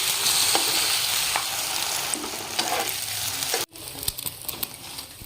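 Street-style egg kat frying on a high flame in a pan, a loud steady sizzle with scraping stirs and scattered pops, the sizzle briefly cutting out near the end before resuming more quietly.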